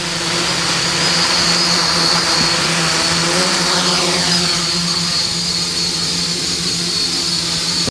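A home-built quadcopter drone with 3D-printed parts takes off and flies, its motors giving a loud, steady, close whine and buzz that fills the whole stretch before cutting off sharply at the end.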